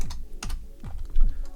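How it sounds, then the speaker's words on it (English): A computer keyboard is typed on with rapid, close, clicky keystrokes arriving in a steady patter and a few heavier presses. "let's say I type in Shopify right now"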